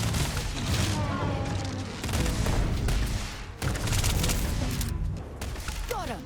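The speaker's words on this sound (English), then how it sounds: "That's like a really fast firing." Rapid automatic gunfire from a fast-firing weapon in Starfield, with dense bursts of shots broken by brief pauses and loud, close reports.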